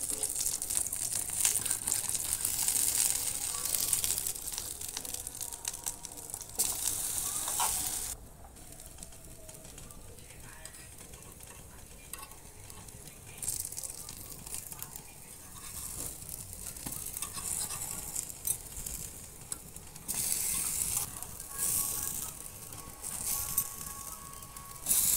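Brinjal slices fry in oil over medium heat and are turned one by one, giving a steady close sizzle with soft scraping and crackling bursts that dip briefly, then swell again.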